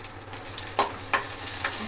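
Aloo curry simmering in a pan, a soft steady sizzle broken by a couple of sharp scrapes and clatters as it is stirred, close by and fairly quiet, with no talking.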